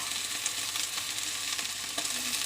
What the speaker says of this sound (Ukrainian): І чекаю, поки м'ясо е, піджариться на іншій стороні.